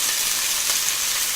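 Washed vegetables tipped into a hot pan for mango sambar give a loud, steady sizzle and frying hiss, close up, for a brief moment without any voices.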